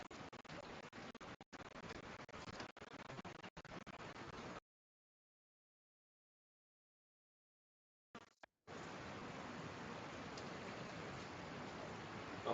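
Heavy rain pours down in a loud, dense, steady wash, briefly cut to silence partway through before the downpour resumes.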